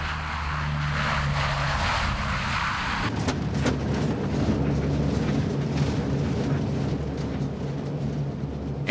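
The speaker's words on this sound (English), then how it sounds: "When the C-130 touches down on the ice, it's too dangerous to apply the brakes." A C-130 aircraft lands on ice in Antarctica, its propeller engines producing a loud, sustained drone with a steady low hum throughout, the roar shifting and growing rougher partway through as it touches down.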